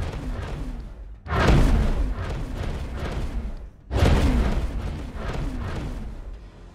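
Two heavy booming explosions ring out in the video game Scrap, each a sudden loud blast followed by a long rumbling decay, the second arriving a few seconds after the first.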